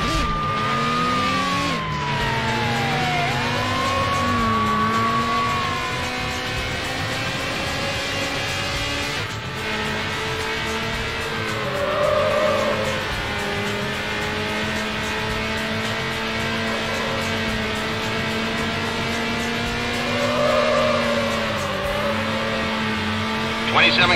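A green Jaguar XKR races in Need for Speed Hot Pursuit 2, its engine a steady loud drone with rising and falling pitch sweeps and occasional tire skids, as voices come and go over it.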